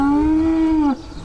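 A dairy cow at Claravale Dairy Farm in Santa Cruz County gives one loud, close, sustained moo that bends down and cuts off sharply before a quiet farmyard background.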